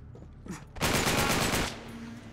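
A burst of automatic gunfire from the video game Uncharted 3: Drake's Deception rattles out loud and close, a dense rapid volley lasting about a second, with a few quieter shots just before it.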